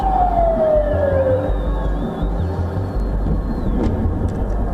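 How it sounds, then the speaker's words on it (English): An air-raid siren in an Israeli city wails with a falling tone that fades, joined by fainter distant sirens drifting over a low rumbling background. "Sirens wail across cities"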